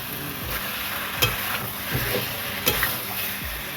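Duck egg and cauliflower curry stir-fried uncovered in a pan, a steady sizzle broken by several rhythmic scraping strokes of a spatula, close and fairly loud, without speech.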